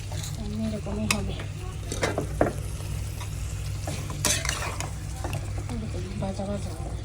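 Beef or goat liver is stirred in a pan with lightly fried spices and no added water: steady scraping and clacking of a spoon against the pan over a low sizzle, with a voice speaking faintly in the background.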